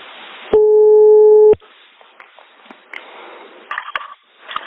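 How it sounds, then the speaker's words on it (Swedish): A telephone line gives a single loud, steady call tone lasting about a second, followed by faint line noise and soft clicks. "Vi ringer Solvallakungens änka Anita."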